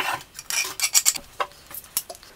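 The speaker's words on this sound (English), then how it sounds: "just get them right into your pan" Chunks of sweet potato tumble into a pan for roasting in a rapid run of close, sharp knocks and scrapes, several pieces landing one after another in uneven bursts.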